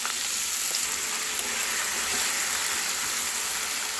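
Potatoes and mixed vegetables fry in hot oil with mustard seeds and dried chillies, giving a steady, dense sizzle that holds evenly at close range with no voices.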